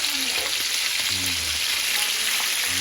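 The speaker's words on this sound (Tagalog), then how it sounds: "Nagpiprito tayo." Steady crackling sizzle of food frying in hot oil, close and continuous, with faint clinks and hums beneath.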